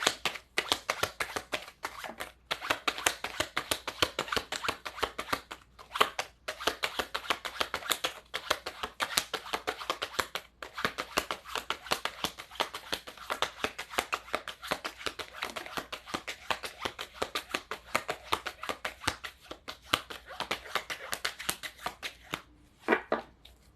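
A stiff tarot deck being shuffled: dense, rapid card riffles and flutters repeating in bursts for over twenty seconds, close and fairly quiet, with brief pauses between shuffles and no talk.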